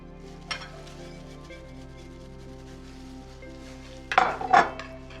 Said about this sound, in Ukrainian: І гарно перемішуємо.